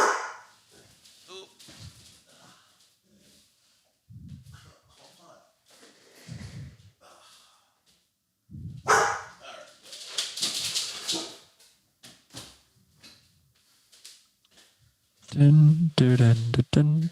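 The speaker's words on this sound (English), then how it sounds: "I closed my dog in this room, or my roommate's dog, not even knowing that she was in here." A dog shut in a closed room gives scattered whimpers, snorts and a few barks, some loud and near, mixed with shuffling and clicks while a person talks intermittently.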